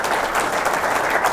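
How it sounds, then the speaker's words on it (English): Dense, loud applause from an interview show audience welcoming a coach, steady and close throughout a short burst. "I'd like to get it started just by giving Coach a big round of applause."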